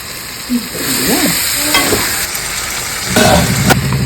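Marinated chicken coated with turmeric, cumin, coriander, chili and salt sizzles steadily as it fries for biryani, with a continuous hiss and crackle and a few stirring scrapes over the top.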